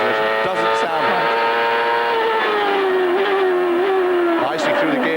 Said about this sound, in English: His teammate had a transmission problem as we ride on board with Jimmy Vasser